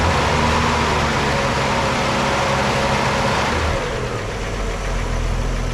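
A Holden HQ Kingswood engine runs close by with a steady, loud mechanical drone that holds fairly even throughout, the low rumble easing slightly toward the end, as when the throttle is blipped during a points and timing adjustment.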